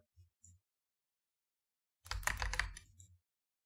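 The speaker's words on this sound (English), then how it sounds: "It's a mechanical keyboard, it's loud as fuck." Loud mechanical keyboard clattering in a quick burst of keystrokes, preceded by a couple of isolated clicks, close and otherwise quiet.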